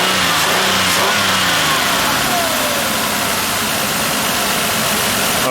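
A 2005 Ford Escape with a 3.0L engine and a misfiring cylinder, shaking as it runs and is given some gas, a loud, steady, rough engine roar filling the whole stretch with no talking.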